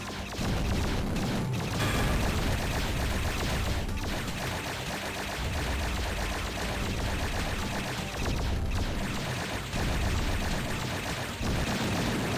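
Dense, continuous gunfire and blasts from turrets in the video game Terminal Velocity, a loud unbroken barrage of crackling shots and rumbling impacts with no talking.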